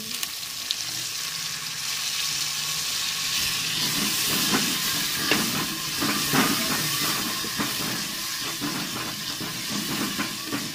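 Tomato masala for a fenugreek and potato curry sizzles loudly in the pan after a splash of water, a steady hiss with crackling pops and occasional stirring clatter throughout.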